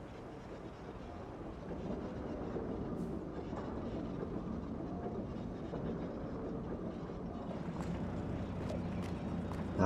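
Train in the Farming Simulator 22 video game rolling along with a steady low rumble and faint rhythmic clatter, moderately loud and continuous, with no talk over it.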